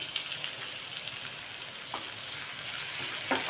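Finely chopped cabbage and capsicum are stir-fried in a pan for vegetable fried rice. A steady, moderate sizzle runs throughout with a few faint scraping stirs and no talk.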